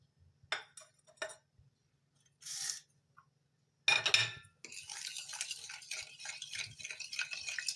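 Seasonings, vinegar, oil and lemon being stirred together in a dish, giving a few sharp utensil clinks against the bowl and then a continuous wet scraping mix, close and moderately loud.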